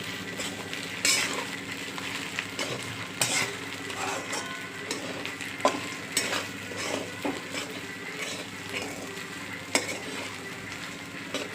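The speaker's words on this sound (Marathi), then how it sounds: "असा आपण साबुदाणा हलवून घेऊया" Sabudana khichdi mixed with crushed peanuts is stirred in a hot pan, a continuous soft sizzle punctuated by irregular clinks and scrapes of the spoon against the metal.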